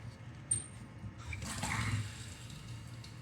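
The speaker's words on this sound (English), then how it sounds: "now we turn the water on" Water turned on at a newly installed bathtub faucet, rushing in with a soft, steady splash after a small click, fairly faint and with no voices.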